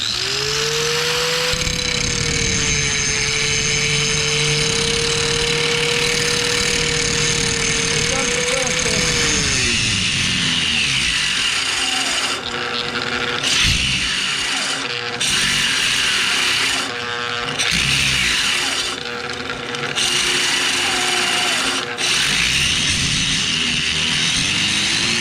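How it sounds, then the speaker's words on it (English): A cheap Warrior 4.5-inch, 4.3-amp angle grinder runs with a loud steady whine, then bogs and labours as heavy pressure loads it toward stalling, the pitch dropping and wavering with harsh grinding bursts throughout. "I'm gonna grind it a little bit, and then I'm gonna put some pressure to it and see if we can't stall it"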